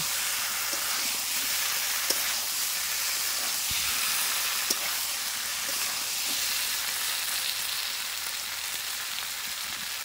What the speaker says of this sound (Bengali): এবার দিয়ে দেবো ডিমগুলো, মশলার সঙ্গে একবার ভালো করে মাখিয়ে নেব।